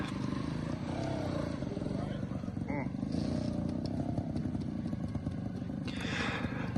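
A motorcycle rides over roots in rough, difficult conditions, its engine a steady near rumble with clattering knocks throughout, while people talk over it.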